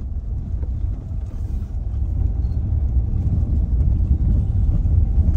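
A car travels over a boulder-strewn mountain road through Pin Valley, a continuous low, rough rumble of engine and tyres on stone with buffeting wind, growing slightly louder toward the end.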